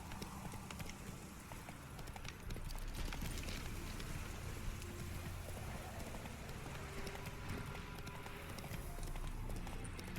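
Horse hooves gallop in a rapid, steady clip-clop rhythm in The Witcher 3 video game, quiet and continuous against a soft rain-like wash of background ambience.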